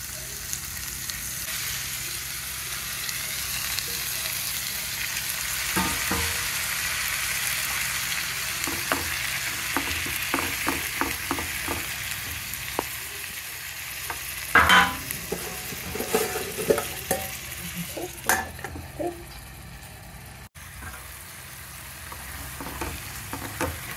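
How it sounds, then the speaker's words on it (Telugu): Tomato pieces fry in a pan for tomato curry, a steady close sizzle broken by repeated clicks and scrapes of stirring, with a louder burst of clatter midway and no talking. "వేగిపోయిన తర్వాత ఇందులో టమాటా ముక్కలు వేసుకోవాలండి."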